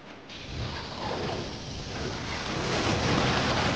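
Storm ambience in an animated fantasy dungeon scene: steady, dense rain hiss with a low rumble underneath, swelling gradually louder, no voices.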